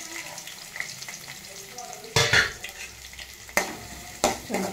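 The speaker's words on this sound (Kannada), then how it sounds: "ಚೆನ್ನಾಗಿ ಫ್ರೈ ಆಗಿ ಈರುಳ್ಳಿ ಹಸಿ ವಾಸನೆ ಹೋಗಿ" Onions, ginger and green chilli fry in a pan with a soft sizzle, broken by three sharp scraping stirs of a spoon against the metal.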